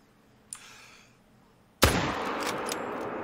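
A hunting rifle fires at a bear in The Hunter: Call of the Wild, set in the snowy Medved Taiga reserve: one sharp, loud report followed by a long rolling echo, after a faint earlier click or rustle.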